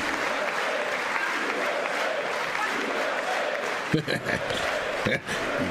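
Applause fills the chamber at the 2019 State of the Union address, a continuous crowd roar of clapping with a few louder bursts near the end.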